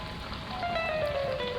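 Rain falling on a surface in a comedy sketch, a faint, steady hiss of drops running the whole time with a thin tone drifting over it and no talk.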